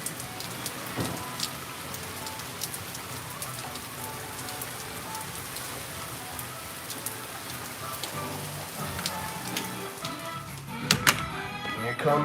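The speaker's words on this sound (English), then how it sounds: "Here comes the rain, dog." Heavy rain pours down steadily in a dense, hissing patter on surfaces, with scattered louder drops and splashes near the end, as people talk over it.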